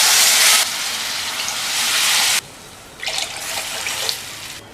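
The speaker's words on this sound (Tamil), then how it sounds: "இதில் வந்து நம்ம 1 கப் ரவைக்கு 3 கப் தண்ணி சேர்த்துடலாம்" Water is poured into a pan while upma is being cooked, a hissing, splashing stream that starts and stops in a few bursts, close and loud with no talking.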